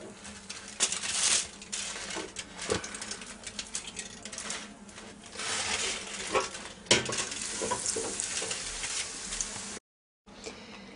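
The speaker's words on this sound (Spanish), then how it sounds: "tengo la freidora ya caliente y ahora las vamos a poner a hacer" Battered potatoes frying in a hot deep fryer give off a steady broadband crackle and sizzle, with scattered louder pops and clinks throughout and a brief silent gap near the end.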